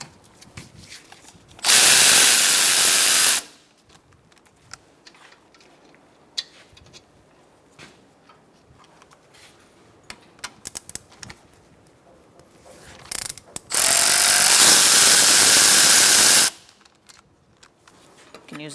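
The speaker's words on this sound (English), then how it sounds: "Using a 14mm socket, we're going to take out our 2 bolts" Brake caliper bolts on a 2014-2019 Kia Soul being removed with a 14mm socket, heard as two loud, steady bursts of tool whirring a couple of seconds each, separated by quiet clicks and handling noise.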